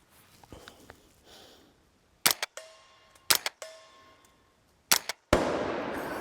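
Tippmann Elite ISS rifle firing at targets outdoors, several sharp separate reports spaced over a few seconds, each with a brief ringing tail, the last one followed by a longer noisy burst.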